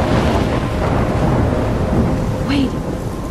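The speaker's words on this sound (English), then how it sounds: "I'm trapped in a storm?" A thunderstorm in the video game Life Is Strange: a loud, steady wash of heavy rain with rolling thunder rumbling underneath and a brief sharp crackle near the end, with no voices.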